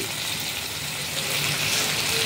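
Ginger, garlic, turmeric, chili and salt sauté in a pan for mustard hilsa, making a dense, continuous close-up sizzle and hiss that stays loud and even throughout.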